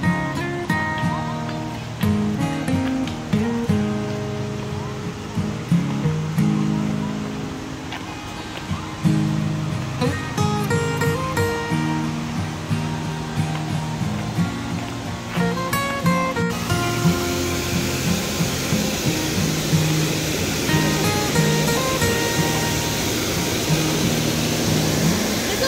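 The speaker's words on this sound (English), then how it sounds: "You can hear the waterfall from here." Rushing water at Gooseberry Falls, Minnesota roars steadily without a break, a broad constant wash that grows fuller and brighter partway through.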